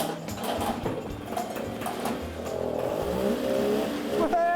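A small two-stroke engine, fuelled and pedalled to start, fires and runs with a buzzy, uneven revving putter, close and fairly loud, while people shout excitedly over it.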